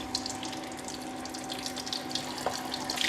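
Prawns fry in very hot oil in a pan, a steady, dense crackling sizzle at close range that holds at a constant level throughout, with a faint tonal hum underneath.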